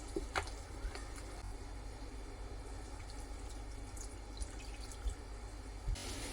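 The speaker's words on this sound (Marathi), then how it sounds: "मी याच्यामध्ये आता थोडं थोडं करून आपल्याला पाणी घालून घ्यायचं आहे" Hot water poured little by little into dal and rice flour for a batter, heard as faint, close trickles and soft drips in a quiet kitchen, with no talking.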